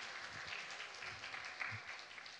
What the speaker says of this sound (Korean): 축하의 박수 한번 해주시죠.